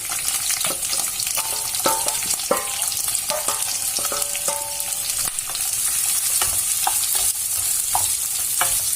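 Two large onions fry in oil in a kadai under a steady close sizzle, with repeated scraping stirs and sharp clicks of the spoon against the pan throughout. No one speaks.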